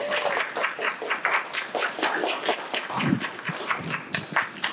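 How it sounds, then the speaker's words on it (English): Audience applause after an artist talk, a dense steady patter of many hands clapping throughout, fairly close and full, with a brief low thump midway and no voices on top. "let's give them a round of applause"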